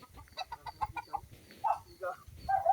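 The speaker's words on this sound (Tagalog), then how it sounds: "May manok nga din eh, nakatali." A tethered chicken clucks in a quick run of short, bright calls, fairly close, with a few sharper squawks toward the end.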